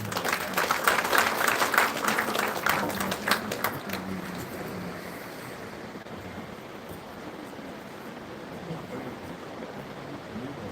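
An audience at an International Women's Day celebration gives a dense round of applause for the dignitaries. It is loud for about four seconds, then dies away into a quiet, hissing hall ambience.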